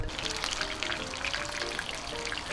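Daing na bangus, a split and marinated milkfish, frying in a pan with a steady dense sizzle and crackle of hot oil, close and continuous with no voices.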